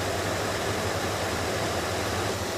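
A car engine idles with the air conditioning system running, giving a steady, loud, even hum and hiss with a low rumble underneath and no pauses.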